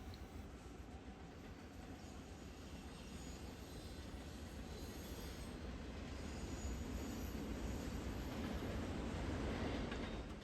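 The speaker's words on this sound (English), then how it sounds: "We happened upon a northbound Union Pacific stack train." Northbound Union Pacific stack train rolling past in a valley, a continuous low rumble with wheel noise and faint squeal, steady and fairly distant, building slightly toward the end.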